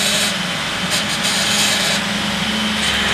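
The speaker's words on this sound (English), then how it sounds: "There's idling too much because there's not wood in the machine." A Bandit 4680 wood chipper idles with no wood fed in, giving off a steady, loud engine drone with a low hum and an even roar that doesn't change.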